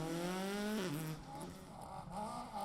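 Rally car at speed on the Cadwell Park circuit during a round of the MSN Circuit Rally Championship, its engine loud and close with rising and falling revs across gear changes, plus a brief tyre squeal.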